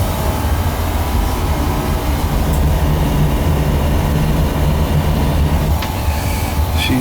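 A home oil burner runs with a new power venter motor, fresh nozzle and new filters after a dirty filter was replaced, giving a steady, close, continuous low roar and hum that holds evenly throughout.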